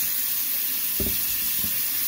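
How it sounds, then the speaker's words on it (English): Tap water runs steadily onto a Sonim XP8 rugged phone being washed with soap, a continuous close hiss and splash with a couple of brief low knocks about midway. "Get some water going."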